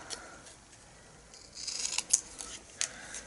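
Scissors snip through a paper banner at close range, a few quiet crisp cuts and light rustling in a calm room.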